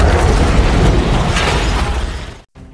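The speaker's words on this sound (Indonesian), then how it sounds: "ledakan mobil es krim itu menewaskan Duta Besar, putranya, dan puluhan anak sekolah" A huge car bomb in an ice cream truck detonates in a war film scene, a loud, sustained roaring blast with rumbling debris lasting over two seconds before cutting abruptly to near silence.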